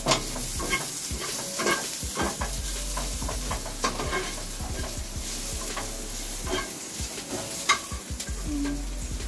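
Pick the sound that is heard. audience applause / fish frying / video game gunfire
fish frying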